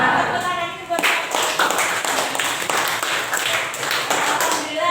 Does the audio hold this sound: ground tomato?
no